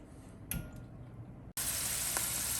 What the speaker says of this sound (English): Adding the olive oil and then the onions. Saute for a little bit, like 2-3 minutes.